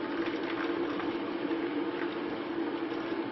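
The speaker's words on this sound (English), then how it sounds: "simply put boiling water into this baking tray like a bain-marie. Just going to pour that in" Boiling water poured into a baking tray set up as a bain-marie for bread dough, a steady, unbroken rushing stream close by with no talking.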